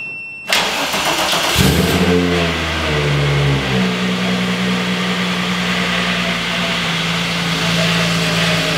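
A 1995 VW Corrado engine cranking and catching, then rising through a rev before settling into a steady, loud idle close by.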